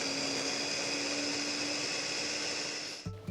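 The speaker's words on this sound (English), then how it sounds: "We just combine everything into the food processor or any your blender and blend until it is smooth" Blender whirring through a peanut butter raspberry bar mixture, a steady loud motor drone that runs continuously and then cuts off abruptly near the end.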